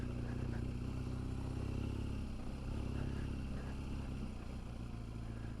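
A steady, low engine drone from a BMW GS 1200 motorcycle ridden on a frozen off-road green lane. It holds at a constant quiet level with faint clatter and no pauses.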